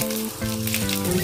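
Mustard seeds and chopped garlic cloves hitting hot oil, a brief close crackle and sizzle with a steady tonal hum running underneath.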